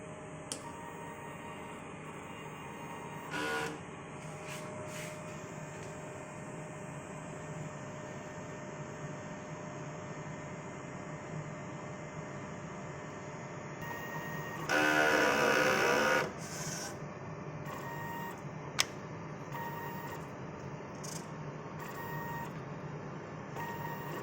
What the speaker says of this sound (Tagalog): after natin ma-on yung printer, so, magki-cleaning po tayo.